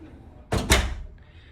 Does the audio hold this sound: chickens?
no